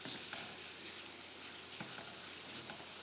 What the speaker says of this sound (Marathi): ह्याला छान लालसर होईस्तोवर परतून घेऊ.